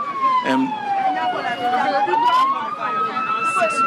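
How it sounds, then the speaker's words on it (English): An ambulance siren wails loud and near with a slow rising and falling tone at a scene where six military recruits died in Accra, while a person talks over it. "the ambulance just came out of the inner perimeter"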